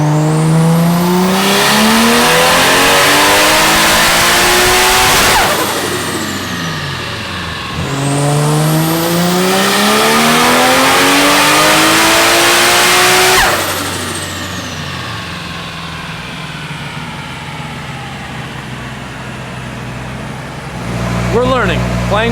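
A Ford GT350 car with a swapped Barra engine revs up loudly twice, climbing in pitch, then sputters and chokes hard before dropping back to a rough idle.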